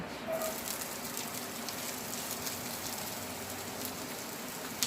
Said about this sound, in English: 1 large onion, finely chopped. I have that around here somewhere. Ah, here we go. I'm going to saute it.